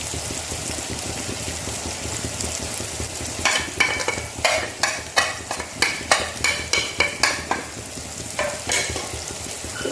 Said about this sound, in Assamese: এতিয়া মই ইয়াতে শুকান মছলাখিনি দি দিম